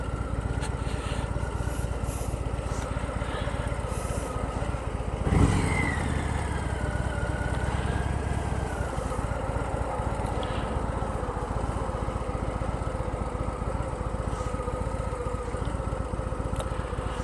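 A 2025 Harley-Davidson Fat Boy motorcycle engine drones steadily during a test ride, heard from on the bike with a brief rise in revs partway through and no talk.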